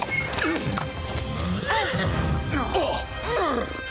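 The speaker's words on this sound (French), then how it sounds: "ce sont les chevaux d'Inès et Bernardo" Cartoon horses neigh repeatedly with high, wavering whinnies while hooves clip-clop underneath, several calls spread across a few seconds at close range.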